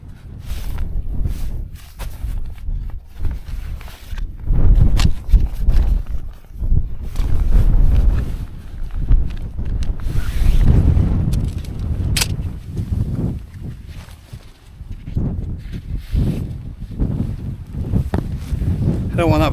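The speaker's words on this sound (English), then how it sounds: "So I'm assuming you can hear the wind" Wind gusts buffet the microphone at a rainy campsite while a tent is being pitched, a loud, uneven low rumble rising and falling throughout, with occasional rustles and knocks nearby.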